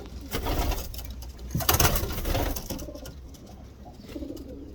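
Ornamental pigeons in a breeding aviary, soft repeated cooing and rustling from several birds at close range, with a louder flurry in the middle and no talk.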